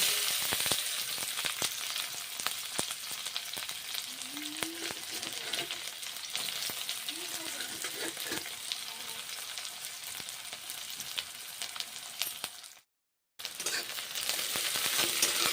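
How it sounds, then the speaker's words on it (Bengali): Onions frying with panch phoron spices give a steady crackling sizzle for about thirteen seconds, broken only by a brief silent gap, with occasional soft scraping of stirring and no talk. "পাঁচ ফোড়ন দিচ্ছি পেঁয়াজ ভেজে নিচ্ছি এখন পেঁয়াজগুলো ভেজে নেব"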